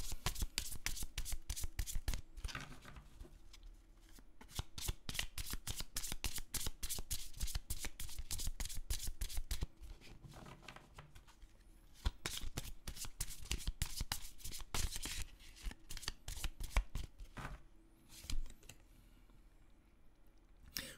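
Romance oracle cards are shuffled by hand in rapid bursts of crisp riffling clicks and flutters, close and fairly quiet, with brief pauses between rounds and no talking.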